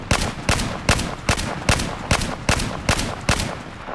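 An SR338 sniper rifle fires from a crouch in Battlefield 4, about ten loud, sharp shots spaced evenly and rapidly with no pauses between them.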